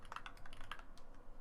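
Quiet typing on a computer keyboard while coding a simple C++ calculator, with a rapid run of soft, close key clicks and no speech.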